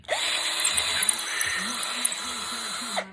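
A power drill whines continuously as it reams out a hole in wood for a DIY sand casting flask, steady high motor tone with slight rising and falling pitch wobble, close and moderately loud.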